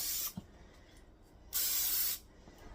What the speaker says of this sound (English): So I'm going to spray my pan really, really good.